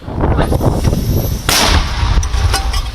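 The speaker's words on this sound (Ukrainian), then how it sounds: "мінометники прикордонного загону реагують швидко, влучно і прицільно" A border guard unit fires a 120-mm mortar in combat on the Bakhmut front, with a run of loud, sharp booming blasts and one big report midway, close and harsh with no voices.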